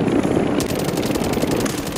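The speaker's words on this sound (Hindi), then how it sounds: "helicopter helicopter" A helicopter in Call of Duty makes a steady, loud rotor and engine drone with rhythmic thumping that continues without pause.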